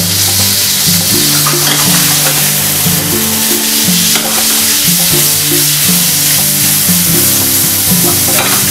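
Scampi and tomato sauce with asparagus trimmings sizzle loudly in a pan as they are stirred, a steady frying hiss with scraping movements throughout, no talking.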